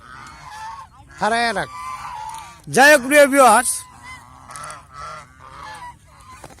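Domestic geese on a goose farm let out several loud, nearby honking bursts, some in quick runs, while someone talks between and over the calls.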